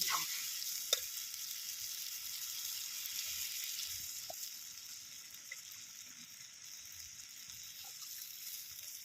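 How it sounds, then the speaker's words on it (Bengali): Water poured into hot fried spice masala in a pan for potato curry, giving a steady hissing sizzle throughout that slowly fades, with a faint clink early on. "আমার মশলা কষানো হয়ে গেছে, তেল ছেড়ে দিয়েছে দেখুন মশলার থেকে। এবার আমি জল দিয়ে দেব।"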